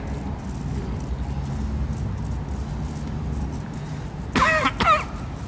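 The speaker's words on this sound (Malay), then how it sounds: "tak apa batuk dah, jauh duduk ni" Two quick coughs come from a person seated some distance away in a mosque during a religious talk, standing out against quiet room ambience.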